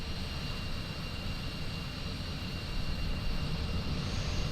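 Steady roar of an Embraer E-175 airliner's jet engines, heard from outside the aircraft just after takeoff in Microsoft Flight Simulator, with a broad, continuous, loud rumble and a high whine that holds steady throughout.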